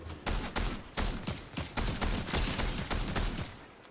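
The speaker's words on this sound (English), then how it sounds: "They're not shooting me, they're shooting someone near me though." Gunfire in Fortnite, a rapid fusillade of sharp, loud shots in uneven bursts that keep going almost without pause, close and punchy.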